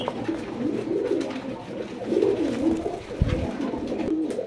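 Pigeons, including a pair of silver birds shown for sale, coo in low, throaty, rolling calls repeated through the moment over a steady background murmur, moderately close.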